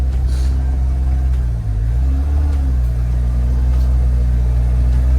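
Kawasaki Ridge XR side-by-side, a 2024 model with HVAC, driven around at low speed: a steady close engine hum and rumble that dips briefly and then rises slightly, with no talking.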